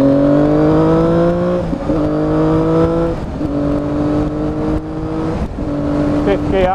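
A black and gold Triumph Daytona 675cc motorcycle engine revs hard and close. Its rising howl climbs in pitch and breaks at several quick gear changes, with steady wind rush underneath.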